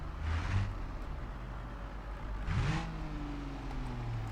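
A modded 400-horsepower truck in BeamNG.drive accelerates with two rising bursts of engine roar, quiet and somewhat distant, its revs sweeping upward before settling into a steady hum.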